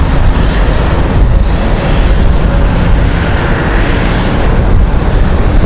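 A jet airliner departs in a westerly wind at Raleigh-Durham airport, its engines giving a loud, close, continuous roar with a rough, rumbling texture throughout.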